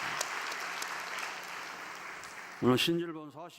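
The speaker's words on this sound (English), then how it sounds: "let's give her a big round of applause as of an encouragement" Audience applause at a gathering fills the space as a steady wash of many hands clapping, tapering off near the end as a voice begins speaking over the last of it.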